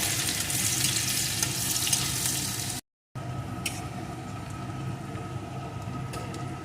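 Chopped onion sizzles steadily in a hot pan, with garlic and crushed ginger in the mix, for a Bengali jackfruit seed mash; a dense, close frying hiss runs throughout, with a brief silent break midway.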